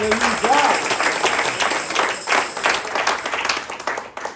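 A church congregation applauds with steady, dense clapping during a service, while a voice speaks faintly underneath.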